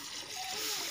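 Water splashes steadily for a brief moment as it is poured during home preparation of rice beer tablets, a close, continuous hissing wash.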